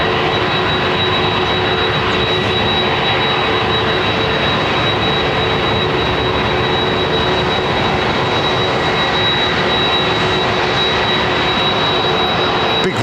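Steady, loud roar of a Boeing 767-400's jet engines idling nearby at London Heathrow Airport, a continuous broadband rumble with a faint high whine running throughout.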